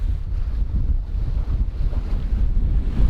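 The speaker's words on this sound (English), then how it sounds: "The sea was still in an uproar after several days of heavy wind" Heavy wind roars across the microphone aboard an Albin Vega sailboat at sea, with rough waves churning and surging in a constant low rumble, loud and close.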